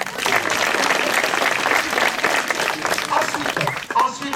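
Audience applause at a gendarmerie dog-handling demonstration, a dense sustained clapping from a crowd lasting the whole stretch, with scattered voices and murmurs mixed in.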